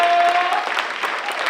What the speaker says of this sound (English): will y'all clap for them again?